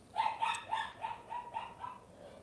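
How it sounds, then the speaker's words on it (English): A dog barks in a quick run of about eight yappy barks, fairly close, fading slightly toward the end. "If you hear some barking, that's my dog."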